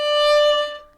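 A single bowed violin note, string pressed fully down, with a bright, steady tone sounds for about a second, then fades out.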